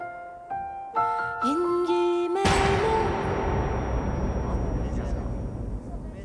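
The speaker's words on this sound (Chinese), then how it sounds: "好似系枪声" A single gunshot cracks out abruptly over background music, followed by a lingering broadband rumble and decay, in a Republican-era period drama scene.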